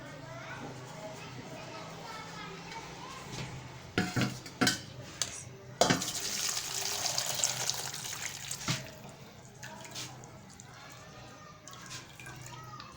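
Soaked boondi for dahi bhalla are lifted out of water, with soft splashing, dripping and clinks of a utensil against a bowl, heard faintly under a person talking.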